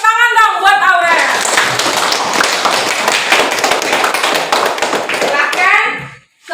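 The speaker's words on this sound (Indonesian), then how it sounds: "Tepuk tangan dong buat Aurel" A classroom of students claps for a classmate, dense steady clapping with some children's voices mixed in, loud and close throughout before stopping abruptly near the end.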